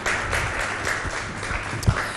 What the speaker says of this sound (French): Applaudissez pour elle, les filles